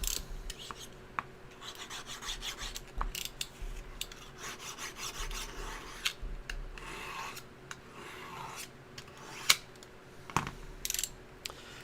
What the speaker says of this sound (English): Let's sharpen this knife real fast here too while we're at it.